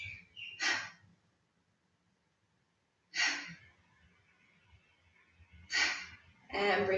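Deep breaths taken during Pilates breathing exercises: three or four sharp inhale-exhale bursts, close and fairly quiet, separated by pauses with soft background murmur.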